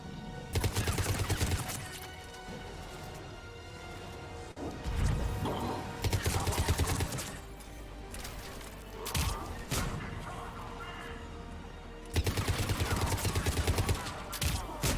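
Bursts of automatic weapon fire from the Mass Effect 3 video game come in several loud, rapid volleys separated by quieter stretches of ambient combat noise.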